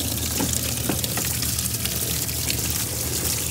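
Water runs and splashes steadily inside a Kenmore Elite Calypso washer during the rinse cycle, a constant hissing wash over a low hum with no voices.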